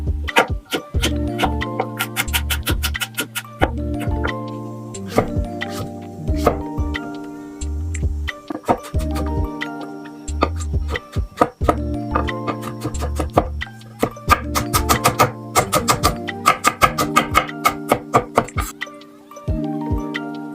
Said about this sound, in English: You want to chop it into small pieces so that it cooks quickly.